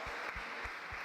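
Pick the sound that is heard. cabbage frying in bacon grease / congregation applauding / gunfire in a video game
congregation applauding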